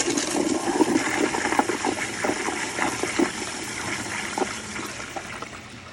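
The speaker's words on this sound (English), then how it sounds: "But I'll do one more flush" A Kohler Kingston wall-mounted toilet with a water guard flushes in one steady, loud rushing gush of water that stays full and close for the whole stretch before easing slightly.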